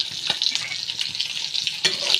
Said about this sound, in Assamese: এয়া মিৰ্গা মাছ এনেকৈ ভাজি লৈছোঁ।